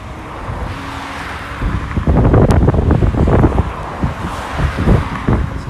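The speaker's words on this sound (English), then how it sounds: "So the wind started picking up now" Wind rising outdoors at the Culham Science Centre, loud gusty buffeting against the microphone that swells and roars in uneven surges, with no voices.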